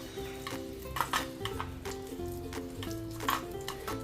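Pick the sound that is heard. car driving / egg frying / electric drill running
egg frying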